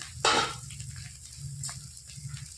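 Diced new potatoes fry in a hot pan in a home kitchen, giving a soft, steady sizzle. A brief scrape of stirring stands out over the crackle.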